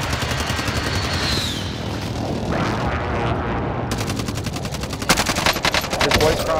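Machine gun fire in a shooter video game, sustained automatic bursts rattling throughout, growing denser and louder toward the end, with faint voices underneath.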